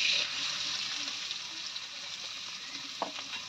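Chopped onion, garlic and green chili fry in a kadai for stuffed pointed gourd, a soft steady sizzle with occasional light clinks and stirring scrapes, close and alone without talk.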